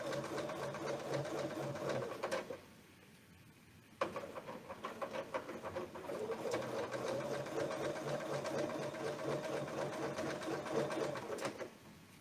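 A sewing machine quilting along a coil template, running in a steady rapid mechanical whir, pausing for about a second and a half, then resuming continuously until near the end, close and moderately loud.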